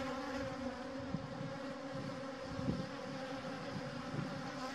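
Honey bees clustered on drone brood in an open Dadant hive, a steady close-up drone of buzzing wings with a few louder passes near the microphone, continuous and without talk.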